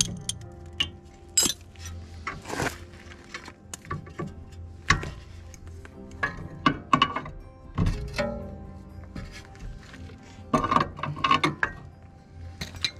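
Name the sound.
unscrewing control arm bushing bolt with 5 mm hex key, Seat Ibiza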